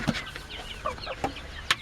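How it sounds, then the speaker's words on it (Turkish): Rize Indian game chickens and a rooster, kept one hen to one rooster, cluck in short scattered calls inside a coop, close by, with soft rustling between the calls. "Bir tavuk bir horoz şeklinde besliyorum."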